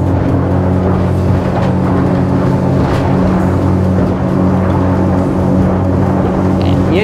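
A Beneteau Antares 11 day cruiser's engines roar steadily at full throttle, a loud, continuous drone with rushing water noise and no voices.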